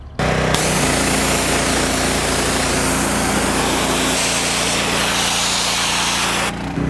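A 4,000 PSI pressure washer blasts mud off a 17-foot ash log before sawmilling, a loud, steady hissing spray with a motor drone underneath, starting abruptly and cutting off near the end.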